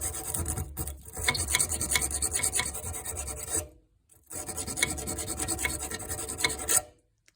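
A wall furnace burner is scraped clean of surface rust, a harsh continuous rasping up close. Two long scraping strokes are split by a brief pause, with no voices.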